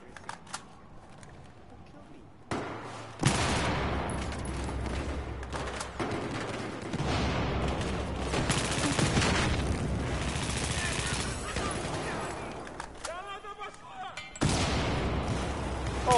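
Video game gunfire rattles in dense bursts and sustained volleys, loud and close, with booming impacts mixed in, under excited talk from players.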